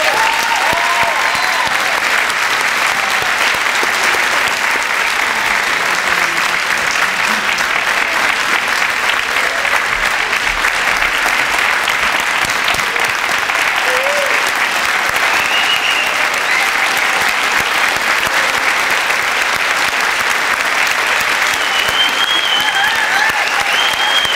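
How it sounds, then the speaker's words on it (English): Sustained applause from a large crowd at an employee recognition ceremony, steady and loud throughout, with occasional faint cheers rising above the clapping. "A huge round of applause for our incredible Pride of Peoria recipients."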